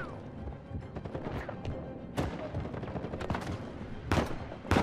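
Enemy gunfire in Uncharted 4: A Thief's End, with rapid bursts of shots and loud impacts crackling continuously, some cracks sharply louder and closer than the rest.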